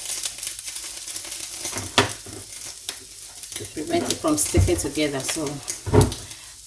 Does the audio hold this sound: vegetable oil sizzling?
yes